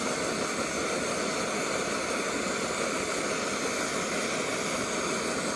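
A Primus Omnifuel camping stove burns with a yellow-tipped flame, giving a steady, loud, roaring hiss that holds unbroken from start to end with no voices.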